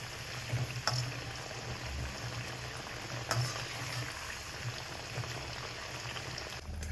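Drumsticks frying in hot oil in a kitchen: a soft, continuous bubbling sizzle at low level, with faint clinks and small pops now and then.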